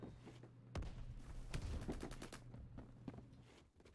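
Phantom Forces gunfire from the can cannon: sharp, heavy bursts of shots in quick uneven clusters, loud and close, with a steady game hum behind them.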